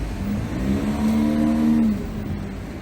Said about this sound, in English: Very heavy traffic on these roads.